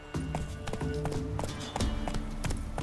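Horse hooves galloping in The Witcher 3, a steady close clip-clop rhythm of repeated hoof strikes that runs throughout with a faint background tone.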